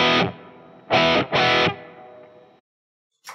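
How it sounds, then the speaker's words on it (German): Distorted electric guitar through a Line 6 Pod Go with Dynamic Hall reverb at the end of the chain: three loud strummed chords, the last ringing into a hall tail that fades to silence. "und dann haben wir ganz am Ende der Signalkette noch ein Reverb, ein Dynamic Hall. Klingt dann so."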